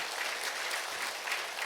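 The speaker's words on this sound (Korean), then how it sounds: "하나님께 영광의 박수 올려드리겠습니다." A church congregation at a healing revival service claps together in steady, dense applause, a continuous wash of hand claps filling the short stretch at even volume.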